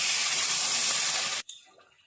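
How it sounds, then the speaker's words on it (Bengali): Hot water poured into a pan of jackfruit and potato curry gives a steady, loud rushing gush that stops abruptly, followed by a faint settling simmer. "আমি গরম জল দিয়ে দিলাম।"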